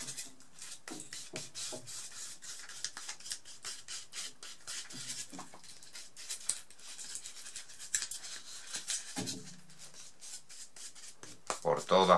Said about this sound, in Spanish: Vamos a darle un poco con la cola.